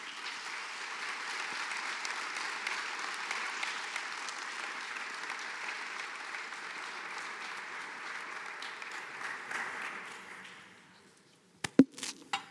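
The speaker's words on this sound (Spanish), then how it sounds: "Un aplauso, por favor." An audience applauds at a 25th anniversary ceremony for an ombudsman institution: sustained, fairly distant clapping that gradually thins and fades out, followed by a few sharp isolated knocks at the end.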